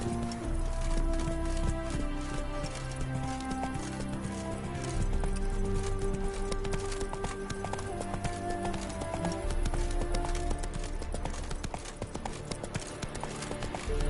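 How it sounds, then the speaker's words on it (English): A horse gallops in The Witcher 3, with rapid rhythmic hoofbeats pounding steadily throughout, close and loud over a dense game soundtrack and ambience. "That's it, Roach. Giddy up."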